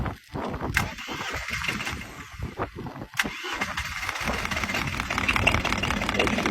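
A small single-cylinder diesel engine cold-starts in the cold with its glow plugs off, chugging through uneven cranking pulses before catching and settling into a loud, steady run close by.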